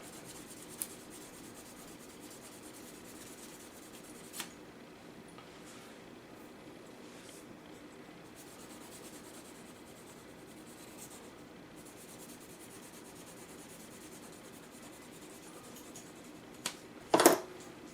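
Soft repeated rubbing of sanding tape along a seam on a plastic model tank barrel, faint and steady, with a couple of small taps and a brief clatter near the end.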